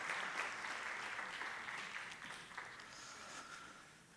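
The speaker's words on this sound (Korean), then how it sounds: "한번 인사할 때 박수 한 번 더 해주세요" Applause from a church congregation rises broad and steady, continuing at an even level for several seconds before thinning slightly toward the end.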